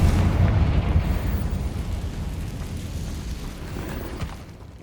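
Confringo spell blast in Hogwarts Legacy on PS5, a heavy booming explosion that hits at full strength at once, then rumbles and slowly decays over several seconds.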